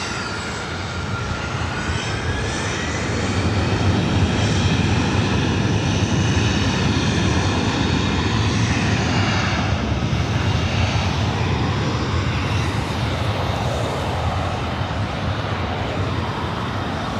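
A jet airliner takes off from runway 24 right at LAX, its engine roar building early and then holding as a loud, sustained rumble and whine for the rest of the clip, with no voices.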